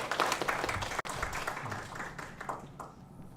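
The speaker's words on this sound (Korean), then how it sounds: "우리 박수로 축하하겠습니다" A Sunday-service church congregation claps in celebration, a lively burst of applause that thins slightly toward the end.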